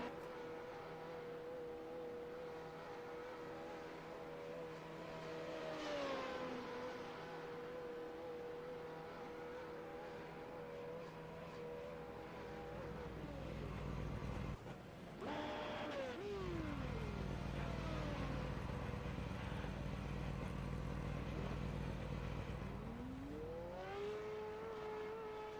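A race car in a Monza sim racing game drives into pit road, its engine droning steadily with a few falling downshift sweeps. The car sounds moderately distant, and there is no talk over it.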